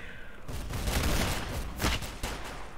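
Rapid gunfire from a gun in the Roblox game Arsenal, dense bursts of shots that fill most of the moment, loud and close, with one sharper blast near the middle.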